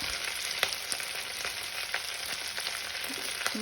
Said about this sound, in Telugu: ఈ విధంగా వేయించి దీంట్లో కొంచెం పసుపు వేయాలి